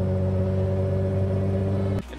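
Datsun 280ZX turbo engine holds a steady humming drone with strong low harmonics, close and loud, cutting off abruptly just after two seconds.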